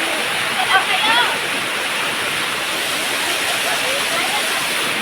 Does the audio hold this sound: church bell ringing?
no